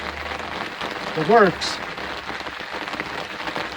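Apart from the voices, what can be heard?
rain falling outside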